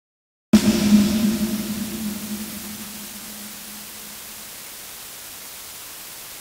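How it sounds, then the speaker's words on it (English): A sudden hit rings out and decays into a long reverberant tail, leaving a steady low hiss of constant dither noise added to the audio signal running underneath to the end. "we've got a constant noise running through the whole signal, which is actually quite obnoxious sounding."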